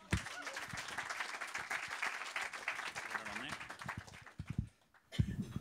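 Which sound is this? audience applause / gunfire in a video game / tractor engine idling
audience applause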